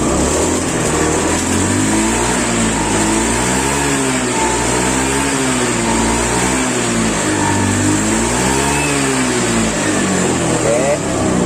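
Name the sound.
Honda Beat motorcycle engine revving after repair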